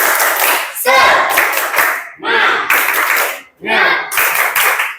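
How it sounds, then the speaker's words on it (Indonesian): A classroom group performs tepuk semangat, a rhythmic patterned clapping chant, in loud close bursts separated by brief pauses, with voices chanting along between the clap sequences. "Tepuk semangat saja dulu"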